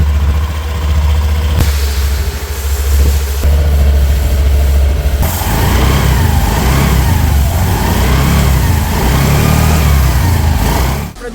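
A 2025 Honda Activa 110 DLX scooter's engine starts and runs, a loud, steady near drone with rising revs and a buzzing hum that holds until it cuts off at the end.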